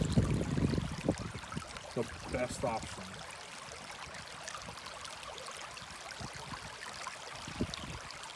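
River water splashing and trickling around someone crossing a stream over rocks, a steady close wash of water throughout, with a louder burst of splashing at the start and a voice speaking over it.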